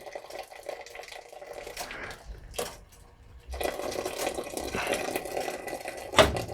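Brewed tea is poured from a smaller pot into a big pot while making dark cherry mead, a faint trickling and splashing of liquid that comes in bursts with short pauses.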